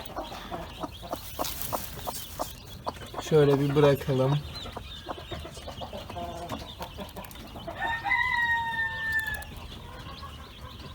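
A hen clucks in short bursts beside her chicks, with faint peeping nearby and a brief crow-like call later; a person speaks briefly in the background.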